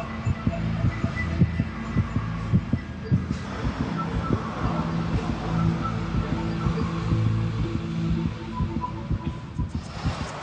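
A steady, rhythmic heartbeat thumps over a low hum, repeating evenly throughout.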